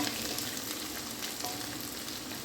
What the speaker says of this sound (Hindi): आलू प्याज अच्छे से भून गई है